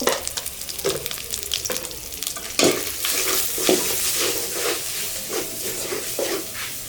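Bhuna khichuri frying in a pan with turmeric and chilli powder: a loud, continuous close sizzle with repeated rhythmic scrapes and clatters of a spoon stirring, and no voices.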